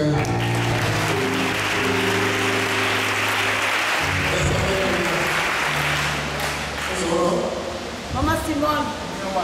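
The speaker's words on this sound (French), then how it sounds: "On acclame le Seigneur" A church congregation at a healing conference in Bouaflé, Côte d'Ivoire applauds and cheers in a loud, sustained wash of clapping, with singing voices and talk running through it.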